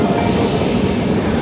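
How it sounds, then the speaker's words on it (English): An old class 4020 S-Bahn electric unit runs on Vienna's S45 line, a steady loud rumble of wheels on rail with a constant rolling roar heard from inside, no talking. "I just got one of these really old class 4020 train units for my journey today"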